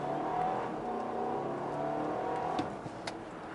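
A 2017 Audi Q5 under full-throttle acceleration, heard from inside as a steady, rising engine drone with a faint whir and a few soft knocks toward the end.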